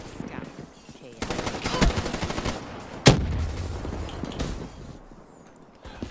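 Gunfire in the Call of Duty video game rattles in sustained automatic bursts, with one sharp louder shot standing out, over a dense mix of in-game noise and effects.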